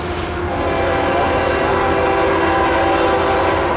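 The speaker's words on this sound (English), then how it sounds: "the ethanol train we saw in Cajon is coming our way" An ethanol freight train approaches and sounds a loud, sustained horn blast over the heavy rumble of the cars, close and continuous, with no talking.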